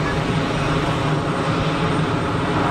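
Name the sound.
aircraft at Geneva Airport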